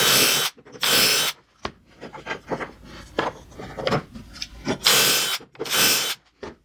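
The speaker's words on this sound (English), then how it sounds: "am going to drill 2 holes into each one of these" Handheld power drill boring holes into wood pieces for a star built on a miter saw: two loud whining bursts, a stretch of lighter grinding and handling noise, then two more close, strong drilling runs.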